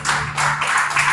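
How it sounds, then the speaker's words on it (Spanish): Congregation in a church applauding together, a steady dense wash of clapping through about a second with a low sustained hum beneath. "démosle un aplauso al Señor"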